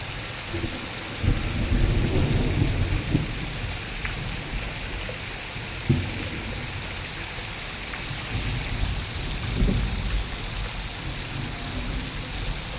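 Heavy rain roars steadily over farmland while low rumbles of thunder swell and fade in the background, with a sharper crack near the middle.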